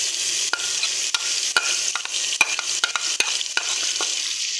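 Crushed green chillies fry in a pan for a Punjabi-style potato and carrot dish, a steady bright sizzle broken by sharp scrapes and taps of a spoon stirring against the pan.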